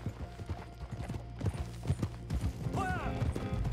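Horse hooves clop in a steady rhythm in Red Dead Redemption 2, loud and close over low music, with a brief mechanical creak near the end.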